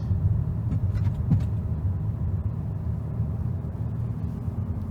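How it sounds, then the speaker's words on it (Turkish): Cabin sound from a 2022 Opel Grandland Ultimate accelerating through a sharp bend. A steady, loud low engine and road rumble continues throughout with no voices. "Gaza yükleniyorum biraz."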